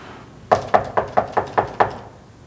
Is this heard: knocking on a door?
yes